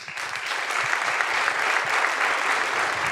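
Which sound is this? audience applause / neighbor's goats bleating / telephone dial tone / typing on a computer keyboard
audience applause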